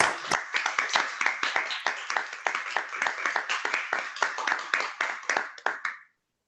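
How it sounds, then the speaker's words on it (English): Graduation ceremony crowd applauds steadily, with dense, continuous clapping that holds for several seconds and then stops abruptly. "a huge applause to you all"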